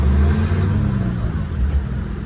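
A BMW M3 accelerating in the street, its engine giving a loud, close, steady low rumble that rises slightly over a couple of seconds, heard alone without voices.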